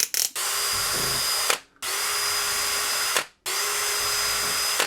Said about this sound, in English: I'm going to use a small drill just to see if I'm actually hitting wood